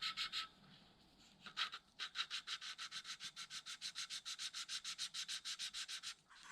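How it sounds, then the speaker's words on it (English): Engine valves from an Aprilia RS4 125 are lapped by hand, a quick rhythmic rasping grind repeating in steady short strokes, close and fairly quiet, with a brief pause early on. "we got the valves lapped in"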